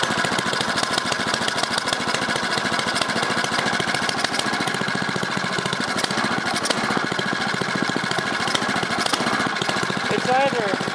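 A Craftsman snowblower engine is started cold and then runs at a loud, steady, buzzing putter throughout, with a voice talking over it at times.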